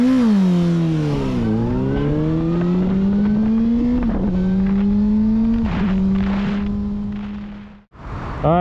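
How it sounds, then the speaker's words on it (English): A 600cc supersport motorcycle revs hard and loud through several gears, its engine note climbing steadily and dropping sharply at each shift, then it cuts out briefly before a final rev. "my reaction to a super sport engined motorcycle"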